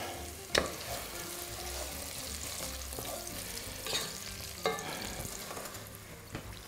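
Leek, onion and garlic fry gently in a pan with a soft, continuous sizzle, marked by a few sharp knocks of a utensil against the pan, all fairly quiet.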